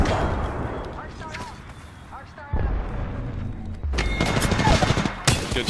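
Apex Legends gunfire crackles as a few scattered bursts, then a denser volley in the last two seconds, with an in-game voice talking between the shots.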